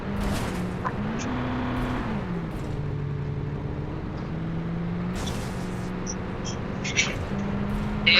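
A car driving in an online battle-royale shooter game, a steady droning engine hum that rises and falls as it shifts and accelerates, with a few faint sharp clicks near the end.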